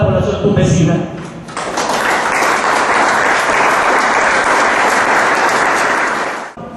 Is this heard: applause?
yes